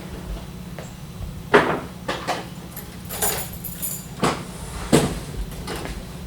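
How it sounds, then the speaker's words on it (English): A Universal laser cutter's front door opens and its riser bed slides out, giving a few separate clunks and scraping slides over a steady low machine hum, without speech. "you can open the front door and pull the riser bed out"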